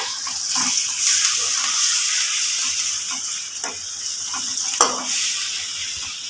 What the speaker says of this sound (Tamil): இப்போ இதெல்லாம் சேர்த்து முதல்ல கிண்டிக்கலாம்.